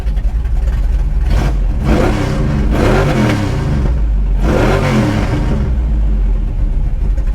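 A 1965 Chevrolet Malibu SS V8 with its exhaust cutouts open revs loudly up close, two strong rising-and-falling blips over a deep steady idle rumble, no talk.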